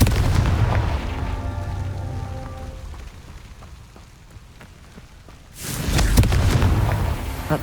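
A Confringo explosive spell cast in the Hogwarts Legacy video game, with a loud, rumbling blast followed by crackling debris; the roar fades into a quieter stretch, then a second heavy burst erupts near the end.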